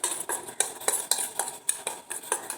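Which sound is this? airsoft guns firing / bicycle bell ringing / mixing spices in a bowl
mixing spices in a bowl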